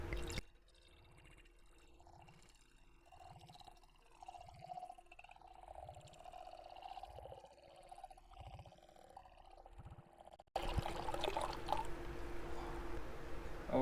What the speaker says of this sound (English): And now let's get into that slow pour.